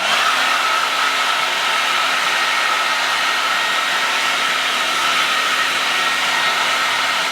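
Hair dryer on its high speed setting blow drying hair, a loud, steady, close-up whoosh with an even hum that holds unchanged throughout, with no voices.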